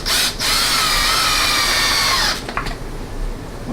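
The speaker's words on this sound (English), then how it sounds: "I'm going to drill these screws into my end pieces here, my actual frame" A power drill drives screws into a wooden crib frame end piece, a steady loud high whine running for about two seconds, then cutting off with a few brief trailing bursts.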